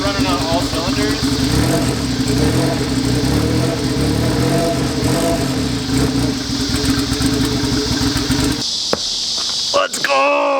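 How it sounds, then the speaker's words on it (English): A turbocharged Honda Civic idles roughly on its first start, apparently not firing on all cylinders, with a loud, steady engine drone that continues under excited talking. "As you can hear, it's idling on its own, but it sounds pretty rough."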